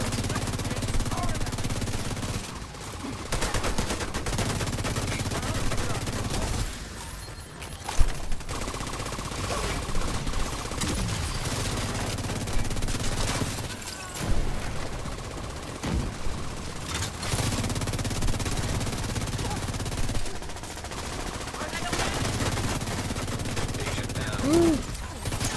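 Sustained automatic gunfire from a Striker build weapon in The Division 2, loud and close, with dense rapid bursts running almost continuously and brief gaps between volleys amid game effects.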